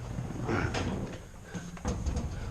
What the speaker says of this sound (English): Whoops, hit the garage door shutter.